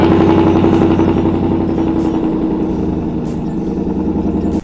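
Car engine with a Whipple supercharger running just after a new belt install, a steady loud idle with a clattering mechanical rhythm close by, fading slightly toward the end.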